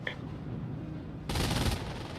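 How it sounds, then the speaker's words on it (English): A half-track fires at a machine gun nest in a video game battle. After a quieter stretch, a sudden dense burst of rapid gunfire erupts close and loud for about half a second. "Josh is just going to take his lazy time shooting at it with the half track"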